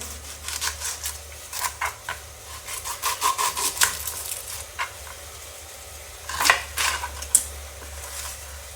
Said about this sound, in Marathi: हे घेतलेले कांदे आपण बारीक चिरून घेऊयात.